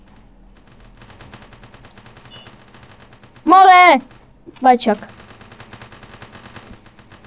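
Gunshots fire in quick, faint bursts that rattle steadily in the background, interrupted twice by loud shouted voices.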